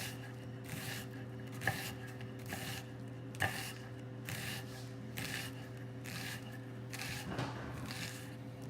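A knife chopping onions on a cutting board, with a regular series of soft, close cuts and scrapes repeating about every half second against a steady low background hum, with no talking.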